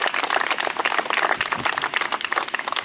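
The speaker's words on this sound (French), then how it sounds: "Merci pour vos applaudissements." Audience applause at an outdoor storytelling show and walk, a dense, steady patter of many hands clapping throughout, fairly close and lively, with no talking.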